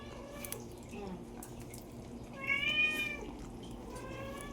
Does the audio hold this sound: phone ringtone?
no